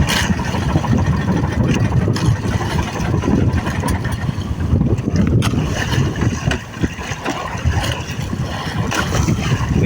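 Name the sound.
wind at sea at night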